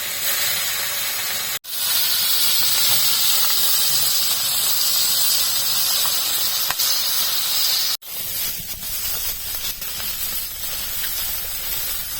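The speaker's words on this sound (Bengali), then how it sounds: "চুনো মাছগুলো নুন হলুদ মাখিয়ে ভালো করে ভেজে নেব।" Small mourala fish coated in salt and turmeric fry in hot oil with a loud, continuous sizzling hiss, broken by two brief dropouts, as the oil spits and crackles steadily up close.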